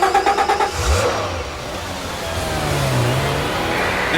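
Venturi sports car engine revving hard, a burst of throttle pulses followed by a rising, sustained acceleration drone that swells and holds, close and loud with no talk.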